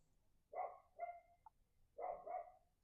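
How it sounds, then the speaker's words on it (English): Dog barking a few times in the distance, short faint barks in two pairs with a brief yip between, over quiet background. "what does this dog barking actually mean?"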